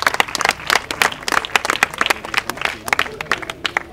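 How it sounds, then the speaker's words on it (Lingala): An audience at a school gathering for EP Mapela applauds, giving sharp, close, uneven clapping with distinct individual claps that rise and fall over the whole stretch. "Au nom de votre ami, on peut l'applaudir."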